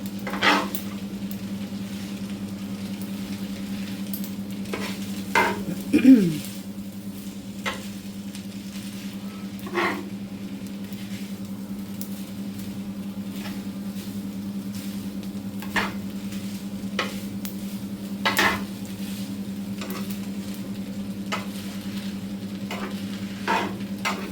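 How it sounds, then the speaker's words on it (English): Beef fried rice stirred in a frying pan sizzles steadily under a constant low hum, with scattered scrapes and knocks of the utensil over a long stretch. "I'm just going to stir it all in together."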